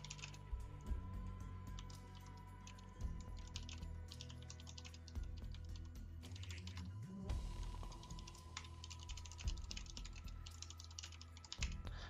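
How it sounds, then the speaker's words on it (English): Typing on a computer keyboard, a fast and irregular patter of key clicks that runs throughout over a low steady hum and carries on for several seconds. "I don't know why I'm typing the answer to you"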